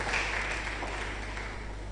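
Applause from the audience at a research and innovation day event, a dense, even wash of clapping that carries steadily through the whole short stretch.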